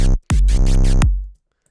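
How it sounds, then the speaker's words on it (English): A heavily distorted 808 bass with white noise layered over it and bit-crushed into a glitchy texture, loud and harsh, sounding in two short bursts with a brief gap between them and then cutting off abruptly. "I instead have like this distorted 808 playing, and then I just have like white noise playing on it, and it gave me this like cool glitchy effect."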